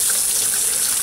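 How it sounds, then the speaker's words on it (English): A sink faucet just repaired after a leak runs steadily, water gushing into the basin in a loud, close, even hiss with no voices. "If you turn the water on there"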